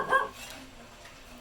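A house dog lets out a single short bark at the start, somewhat muffled as if from another room, followed by quiet indoor background.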